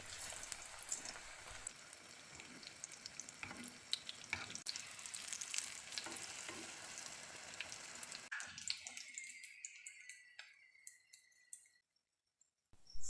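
Aloo keema stuffed crispy strip samosas frying in hot oil give a steady sizzling crackle with scattered pops, fading to quiet toward the end.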